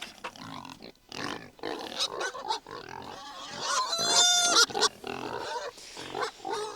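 Pigs grunt and squeal at close range, a busy run of snorts and higher squeals with no talking.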